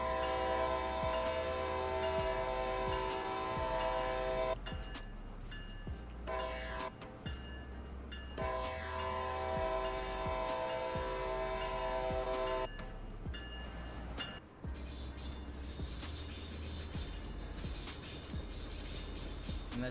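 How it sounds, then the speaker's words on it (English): Loud, sustained horn blasts from a SEPTA ACS-64 electric locomotive in the Train Sim World 2 game: two long blasts separated by short breaks, heard up close over steady train and engine rumble, with no talk. "Let's give them a nice horn sound right now."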